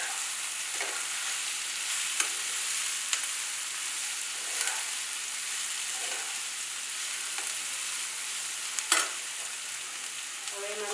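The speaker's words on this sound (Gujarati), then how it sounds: "કોબીજ અને કેપ્સિકમ. આ બધાને સારી રીતે મિક્સ કરી દઈશું." Chopped cabbage and capsicum stir-fried in a pan, a continuous close sizzle with periodic scraping strokes of a spatula against the pan and no speech.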